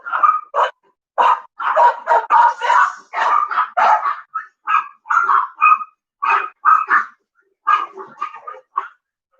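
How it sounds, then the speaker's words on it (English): Dogs in a home bark excitedly in quick bursts and yips, loud and close, with short pauses between volleys and some whimpering, no talk over them. "My dogs got all crazy."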